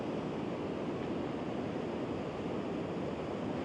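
Pilot Falls pours into a creek beneath a bridge, a faint, steady rush of falling water with no voices.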